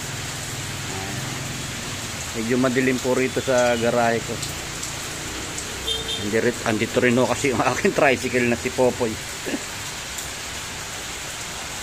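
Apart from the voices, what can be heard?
rain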